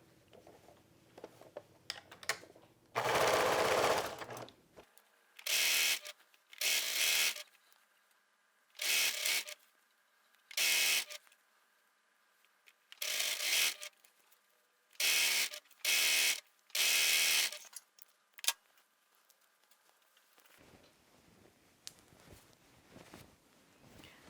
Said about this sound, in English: I'm still using the zigzag stitch, so I'm going to stitch that sleeve right on there